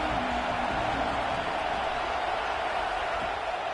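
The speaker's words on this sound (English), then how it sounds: "This crowd ready to make its presence known." A stadium crowd at a college football game between Oregon and Arkansas roars in a steady, dense wash of cheering that fills the whole stretch without letup.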